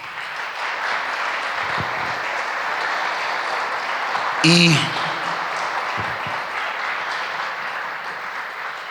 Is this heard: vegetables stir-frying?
no